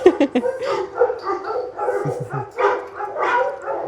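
Shelter dogs bark and yip in short, uneven bursts close by, with some higher whimpering mixed in and no talking.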